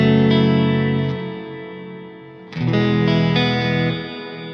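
Dry reverb from a Strymon BigSky pedal with modulation off, sustained electric guitar chords ringing with a static, unmodulated tail; two chord swells, the second restruck around the midpoint, loud and without voices.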